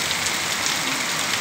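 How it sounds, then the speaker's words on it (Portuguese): Heavy rain pours down during a storm in the sertão of Brazil's Northeast, a dense, even hiss of drops hitting surfaces up close, continuous and steady with no voices. "Tá grande, uma chuva grande, viu? Chuva boa, viu?"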